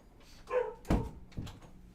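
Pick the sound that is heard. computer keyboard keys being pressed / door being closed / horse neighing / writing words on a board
door being closed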